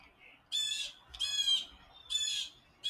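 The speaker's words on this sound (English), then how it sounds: "I think that sounds like a red-winged blackbird." Harsh, buzzy red-winged blackbird calls repeat outdoors, four loud bursts in under three seconds over a faint background hiss.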